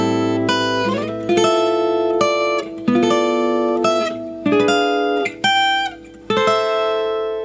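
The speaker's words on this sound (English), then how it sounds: "your harmonized version of that melody line is going to sound like this now" An electric lead guitar plays a harmonized melody line, with sharp, distinct picked notes and doubled intervals in a rhythmic phrase, loud and close with no voices.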